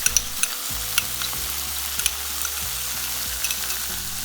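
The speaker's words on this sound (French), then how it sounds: "on continue à faire revenir le tout" Char siu pork filling sautés in a hot pan with a steady, close sizzle, broken by regular scraping and clacking as a utensil stirs it. No voices.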